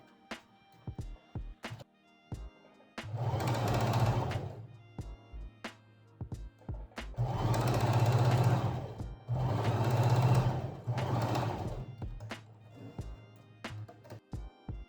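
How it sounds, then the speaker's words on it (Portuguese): A sewing machine runs in three sustained bursts of stitching on patchwork fabric, separated by short pauses filled with sharp clicks and handling knocks, loud and close. "Eu passei uma costura na maior largura que eu pude na minha máquina, no caso, na largura 6 e no ponto 4"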